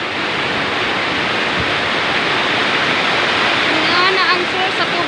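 Heavy rainwater overflows and gushes in a loud, constant roar of rushing water, with a voice briefly audible toward the end.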